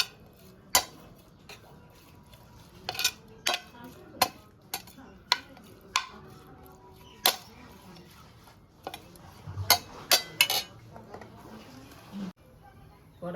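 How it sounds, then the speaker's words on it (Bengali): Prawns being stirred in a pan with a metal spatula: sharp, irregular clinks and scrapes of metal on the pan, close and fairly loud, scattered across a quiet kitchen background. "এটা দিয়েই নাড়িয়ে নিই খুন্তিটা দিয়ে"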